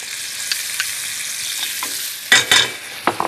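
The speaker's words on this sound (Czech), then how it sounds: "Krátce restuji tak, aby se mi nespálila." Finely chopped onion sizzles in melted butter in a small hot pan, a steady close frying hiss broken by a few louder crackling bursts of stirring near the end.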